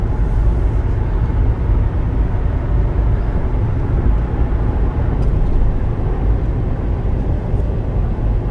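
A Lexus GX460 SUV cruises down a dark highway at night, with a steady, loud low-frequency road and engine rumble from inside the cabin that holds constant throughout, with no talking.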